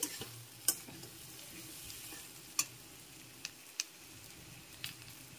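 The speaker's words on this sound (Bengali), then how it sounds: "এবার এর মধ্যে দিয়ে দিচ্ছি চিংড়ি মাছগুলো। এখন মিশিয়ে নিচ্ছি।" Prawns being stirred through a frying pan of potato and snake gourd curry, a soft steady sizzle with a few sharp spoon taps and scrapes against the pan, close and fairly quiet, with no talking.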